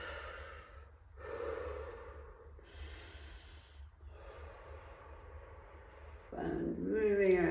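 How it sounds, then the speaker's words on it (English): A person takes three slow, deep breaths through the mouth during a fascial maneuver class, each a long airy inhale or exhale heard close, and a voice starts speaking at the end. "Three breaths through your mouth."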